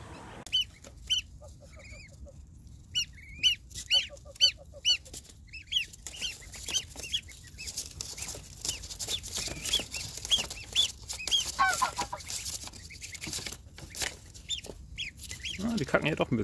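Rescued goslings packed into a paper bag peep repeatedly in high, rapid bursts, with rustling and scuffling from the bag, heard close and without talk.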